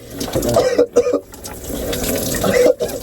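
Cold water gushes steadily from a tap in a place where the hot water is broken, a close, continuous splashing stream with brief dips and surges as the flow shifts.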